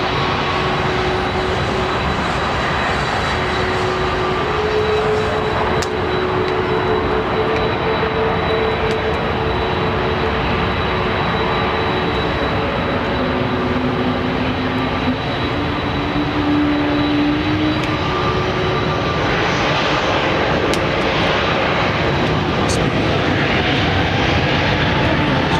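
Aircraft engines rumble steadily at London Heathrow Airport, a loud, continuous roar with shifting tonal whines as planes move on the taxiway, close and sustained throughout.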